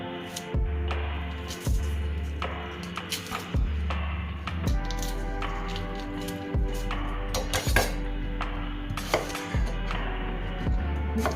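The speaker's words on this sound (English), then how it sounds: "I'm going to start by cutting up an onion. Just slice this, cut it" A knife slicing through an onion on a cutting board, a steady series of firm chopping knocks at a regular rhythm, close and clear with no talking.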